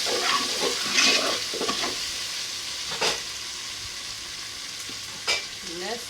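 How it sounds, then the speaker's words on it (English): Tomato fries in a pan for plantain porridge, a continuous close sizzle broken by a few scraping stirs from a utensil, with no talking. "You have to fry it for some minutes."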